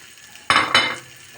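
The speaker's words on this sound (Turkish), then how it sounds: "Ekmeğimi şöyle güzel bir kızartıyorum." A brief sizzle and scrape as bread is pressed into a hot frying pan, two quick bursts of frying noise over a quiet kitchen background.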